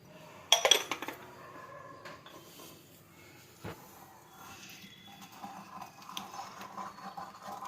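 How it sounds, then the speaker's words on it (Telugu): Gongura leaves and bottle gourd being mashed in a pot with a dal masher, a loud clattering burst of metal on pot up front, then softer scraping and knocking continuing alone. "పప్పు గుత్తితో బాగా మెదిపేసుకోండి."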